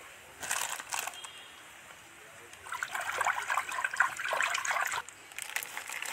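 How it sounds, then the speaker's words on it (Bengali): Young jackfruit pieces drop into a bowl of turmeric water in a home kitchen: a quiet splash, then rustling, trickling water and handling noises in short bursts. "একটু হলুদ জলের মধ্যে দিয়ে দিচ্ছি"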